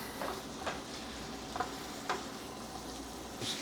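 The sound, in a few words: spice mixture toasting and being stirred in a hot pan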